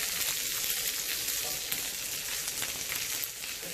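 Asparagus sizzles on a hot griddle, a steady, dense hiss of frying with faint crackles, close and continuous throughout, with no voices.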